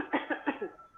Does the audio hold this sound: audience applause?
no